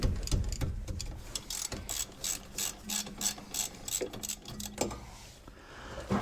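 Ratchet clicking in quick rapid bursts while loosening a brake caliper bolt on a 2011 Impala, close and fairly quiet, with a few pauses between strokes.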